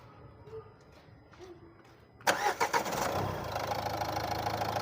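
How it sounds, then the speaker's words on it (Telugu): A 2018 Renault Captur with a 110 PS engine cranks briefly and catches, then settles into a steady idle; faint background noise comes before the start. "एक बार गाड़ी स्टार्ट करो."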